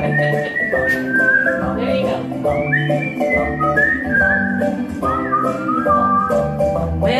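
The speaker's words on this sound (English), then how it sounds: "Whistle up, because I can't do it." At a cabaret show, a person whistles a melodic tune clearly and close by over a musical accompaniment, with sliding, sustained notes throughout.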